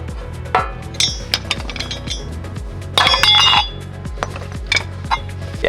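A flathead screwdriver taps against the wheel dust shield of a Lexus GX470 during a wheel bearing job, giving a steady run of sharp metallic clinks with a few louder ringing strikes, close and alone.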